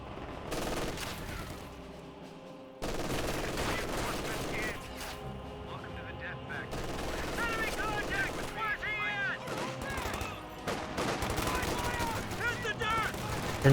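BAR rifles in a Company of Heroes 2 battle, dense bursts of automatic gunfire and rattling volleys with occasional heavier booms, loud and continuous, with a voice talking over the fighting.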